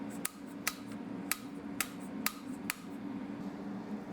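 A hammer taps a bolt on a 2019 Husqvarna FC 250 dirt bike six times in sharp, evenly spaced metallic knocks over a low steady hum.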